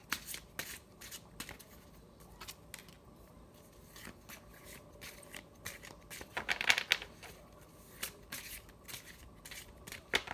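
A deck of playing cards shuffled repeatedly, with quick riffling bursts and a louder flurry of flicks near the middle as one card jumps free, close and fairly quiet, with no talk.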